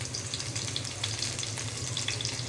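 Chopped garlic tempering for a baghar crackles and sizzles in hot oil, a steady close hiss dotted with small popping spatters, no voices present.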